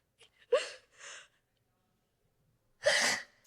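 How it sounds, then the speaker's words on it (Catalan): A single sneeze from a person at a live convention panel, with a short breathy intake before it, a brief follow-up burst, a quiet pause, then a second loud sneeze near the end. "És que tinc ganes d'esternudar."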